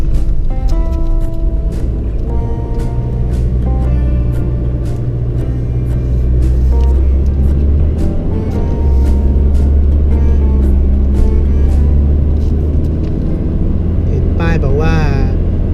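A car engine labours steadily in first gear while climbing a mountain road to Doi Phu Kha National Park in Nan, a continuous low drone with someone talking over it throughout.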